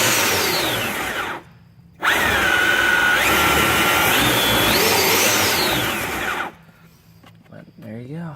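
The 24V motor of a Power Wheels Escalade whines loudly and close, its pitch rising and falling as the throttle pedal varies. It cuts out briefly twice, and a voice is heard near the end.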